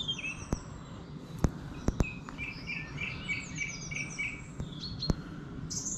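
Dawn chorus in a rural English village: several birds chirp and trill in overlapping high phrases, with crickets or insects buzzing steadily beneath and a few sharp clicks in the foreground.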